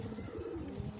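Cooing of an Indian Gulab Sura pigeon, a double-eyelid breed, a soft low rolling coo held steadily through a short, close and fairly quiet stretch.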